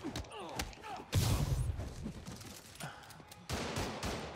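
Enemy gunfire crackles in bursts during a Marvel's Spider-Man Remastered PS5 fight, with irregular volleys of shots and thuds. Some rattle out close while others sound farther back, layered over busy game effects.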